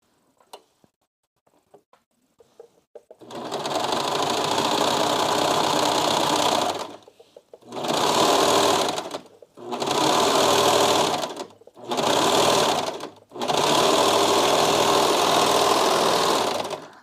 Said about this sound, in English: the microphone is super close to the serger